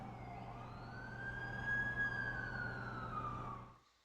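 An ambulance siren in The Amazing Spider-Man 2 video game wails steadily in a rising and falling sweep over a low hum. It is fairly close and continuous, then cuts off and fades near the end.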